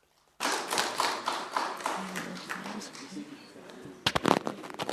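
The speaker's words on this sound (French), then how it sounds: "si on se met à applaudir sur chacune des interventions" Brief burst of applause in a council meeting hall, a cluster of sharp claps near the end following a long stretch of a single voice speaking.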